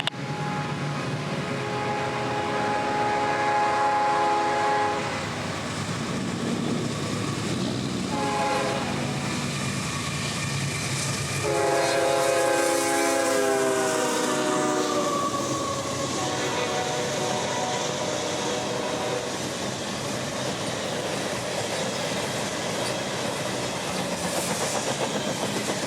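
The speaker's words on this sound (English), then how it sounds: "train IO44 would be racing north with a load of fresh orange juice and intermodal for Jacksonville" CSX freight train IO44, hauling orange juice and intermodal on the Tampa District, rolls past at night with a steady low rumble while its horn sounds several long blasts in the middle of the pass.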